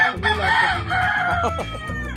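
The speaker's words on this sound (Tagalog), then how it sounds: "Oh, may manok pala eh." A loud, close rooster crows once in a long, wavering call, with a few softer clucks trailing after it.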